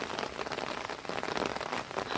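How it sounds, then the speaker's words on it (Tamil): Rain falling steadily on a field of sprouting black gram seedlings, a dense continuous patter of drops close by, fairly quiet and unbroken, with no voices. "இப்போ மழையில் நனைஞ்சிட்டே தான் வந்து எடுத்துகிட்ருக்கேன்"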